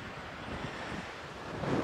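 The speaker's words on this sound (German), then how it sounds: "es ist verdammt windig." Strong wind on a seaside cliff on Lanzarote, blowing steadily and roaring hard into the microphone, with a dense, constant rush that swells slightly toward the end.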